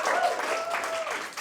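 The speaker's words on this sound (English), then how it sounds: "tonight you can give me a big round of applause." Audience applause at a stand-up comedy show, a steady wash of clapping filling the room throughout, with a voice faintly audible over it.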